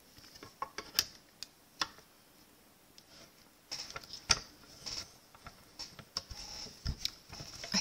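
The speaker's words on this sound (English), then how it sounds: "whenever I'm running things through my stamp cut and emboss machine" Cardstock being cranked through a Stampin' Up stamp cut and emboss machine, irregular clicks, ratchety knocks and small mechanical clatters, close and quiet, with a busier grinding stretch near the end and no talk.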